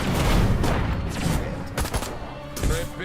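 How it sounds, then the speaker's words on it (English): Grenade blast and rattling gunfire in the action game Destroy All Humans 2, a loud rumbling explosion opening into dense, continuous shooting with sharper cracks scattered throughout. "Wait, one throw a grenade there."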